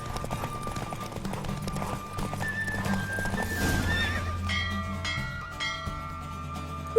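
A horse galloping in a race in the Witcher 3: The Wild Hunt game: continuous rhythmic hoofbeats over the game ambience, with a bright whinny partway through and bell-like tones, no talking.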